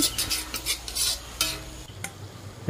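Paneer being stirred in a pan with a metal utensil: repeated scraping and clinking strokes against the pan, close and fairly loud, with a faint sizzle underneath and no talking.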